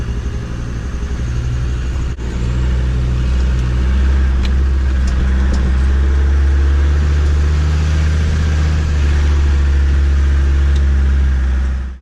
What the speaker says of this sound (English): Slowly creep over this crest and let low range do its thing.